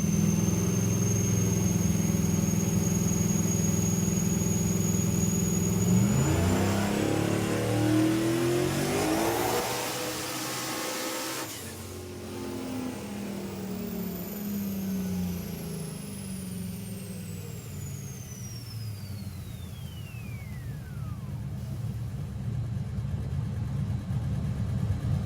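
A 1200HP turbocharged Trans Am Firehawk strapped to a dyno idles, then revs hard and roars up through a long pull, loud and close, with the engine note climbing steeply before settling into a rumbling idle.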